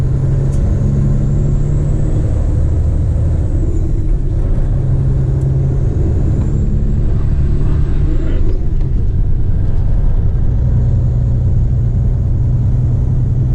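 A 1996 truck drives along with a loud, steady engine rumble and road noise heard from inside the cab, holding constant throughout.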